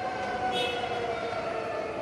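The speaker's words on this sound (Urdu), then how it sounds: "دوسری جانب غرب اردن میں یوم نکبہ پر سائرن کی گونج" Sirens wail across the West Bank on Nakba Day, a steady, sustained tone that carries as if heard from a distance over the whole stretch, with no talking.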